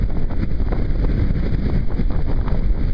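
Gusty wind roars steadily across a microphone during a ride home, a dense continuous rumble with slight surges and no pauses.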